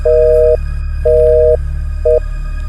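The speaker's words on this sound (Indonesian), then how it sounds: "Dan tiba-tiba hubungan telepon itu pun terputus." Telephone busy signal after a call is suddenly cut off: three loud, steady electronic tones, the first two long and the third short, separated by brief gaps over a constant low background hum.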